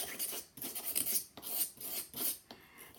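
A craft knife drags repeatedly across fabric or paper in a rhythmic series of short, close rasping strokes with brief pauses between them, with no talking.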